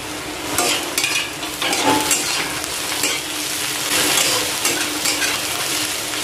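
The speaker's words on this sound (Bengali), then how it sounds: "আদাটা অল্প ভেজে নিলাম। এবার দিয়ে দেব লঙ্কা কুচি।" Grated ginger and chopped green chili frying in a pan in a village kitchen, a loud continuous sizzle broken by repeated scraping stirs of a spatula, with no one talking.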